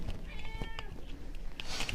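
Inside a shelter cattery room with cages, a cat gives a faint, brief meow-like call amid quiet room noise, with light rustles and soft clicks around it.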